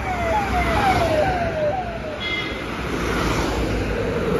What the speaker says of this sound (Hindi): ये आया योगी जी का काफिला।